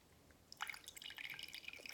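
Water dripping from a soaked paper towel, faint scattered drips and small splashes that begin after a quiet start and patter irregularly close by.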